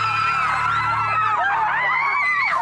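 A woman in a comedy sketch screams loudly and continuously, her high-pitched, wavering shriek rising and falling in pitch for a couple of seconds.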